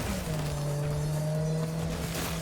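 Race cars in the video game Cyberpunk: Phantom Liberty speed along with a steady, sustained engine tone and road rush, moderately loud and uninterrupted.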